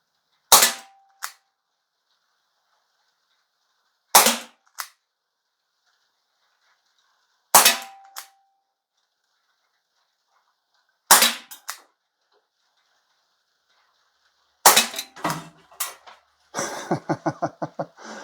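A Crosman SNR357 CO2 air revolver fires five sharp, loud shots, each about three seconds apart in a clean field setting, followed by a quick burst of rapid mechanical clicking.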